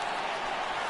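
A stadium crowd in a baseball video game roars in a steady, dense wash of cheering that holds at an even, loud level for the whole second, with no clear voices standing out.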